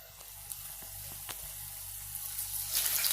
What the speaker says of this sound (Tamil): இப்போ நம்ம எண்ணெயில் போட்டு டீப் ஃப்ரை பண்ணி எடுத்துக்கலாம்.